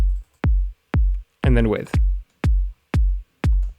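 A house kick drum made with the Kick 2 synth plugin, heard as eight evenly spaced, punchy low thumps with soft transients, once dry and once with a layered sample, plus a brief spoken phrase in the middle.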